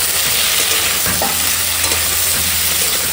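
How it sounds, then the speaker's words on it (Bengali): Potato, tomato and papaya stems stir-fried with ginger-garlic paste, chili and onion in a pan: loud, continuous close sizzling with scraping stirring throughout, no voices. "এখন এই আদা রসুনের সঙ্গে ভালো করে আনাজগুলো একটু কষিয়ে নেবো।"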